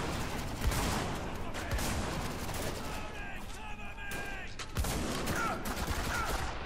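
Rapid bursts of gunfire from the Spec Ops: The Line video game, loud and dense, with sharp shots cutting through and a brief lull midway before firing resumes.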